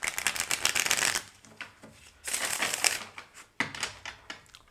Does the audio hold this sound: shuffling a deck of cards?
yes